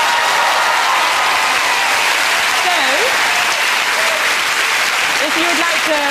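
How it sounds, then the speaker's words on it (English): A crowd applauds steadily for several seconds, dense clapping throughout, with some cheering and voices mixed in. "That's worth a round of applause."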